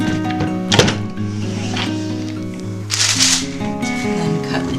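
Soap cutter pressing through a block of homemade soap in an off-grid soap studio, a few close, loud dull thunks and scraping slides over a low humming tone.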